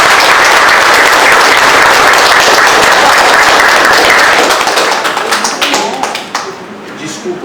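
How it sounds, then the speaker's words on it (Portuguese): Loud, dense applause from an audience fills the room after a talk, sustained and close for several seconds before thinning into scattered claps and fading out. "vamos, uma salva de palmas para o nosso irmão"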